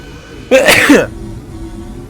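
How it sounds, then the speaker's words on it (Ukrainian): A single loud sneeze bursts out abruptly and close, lasting about half a second against a quiet background hum during a game session. "Вибачаюся, чихнув дуже гучно."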